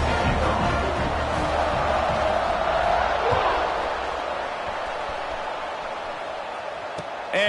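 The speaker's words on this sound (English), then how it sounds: "this crowd is buzzing after that last score" A football stadium crowd, Oregon versus North Carolina in a video game, gives off a broad roaring buzz that slowly fades to a lower murmur, with a sharp thud near the end.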